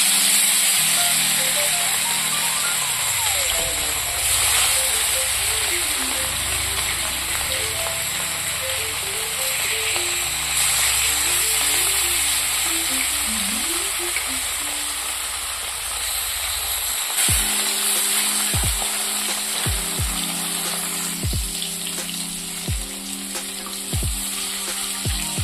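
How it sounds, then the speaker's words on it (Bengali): Rohu fish frying in hot oil in a wok gives a steady, close sizzle that runs the whole time, with faint tonal sounds in the background and a few sharp clatters toward the end. "মাছগুলো ভেজে নেব।"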